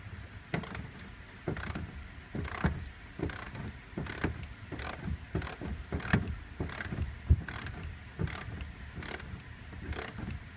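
A ratchet works close by in steady, evenly spaced bursts of clicking, tightening Loctite-coated factory bolts through seat spacers on a Dodge Ram crew cab. The rhythm repeats about a dozen times with no voices.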